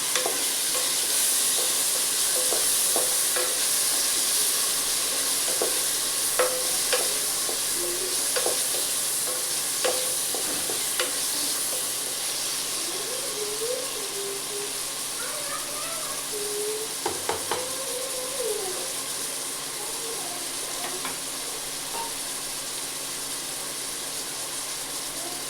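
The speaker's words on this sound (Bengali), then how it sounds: "সয়াবিনগুলো দিয়ে দিচ্ছি। এটাকে অল্প নাড়াচাড়া করে নেব।" Soya chunks stirred and fried in a pan for a soya meat curry, with a steady sizzle and repeated scraping strokes of a spoon against the pan, close and continuous.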